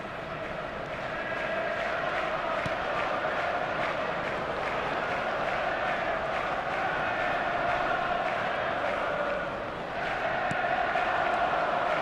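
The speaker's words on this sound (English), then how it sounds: "the crowd have tried to spark some excitement, but to no avail" A stadium crowd in an eFootball 2023 match gives off a constant, distant murmur that swells faintly at times, with a commentator talking over it.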